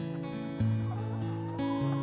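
Free-range laying hens cluck close by in short, overlapping calls, a few birds chattering back and forth in quick succession.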